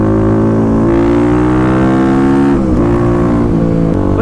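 A modified 2018 Kawasaki KLX350 set up as a supermoto pulls hard through its revs, a loud, close engine note climbing steadily with brief drops at gear shifts, and no voices.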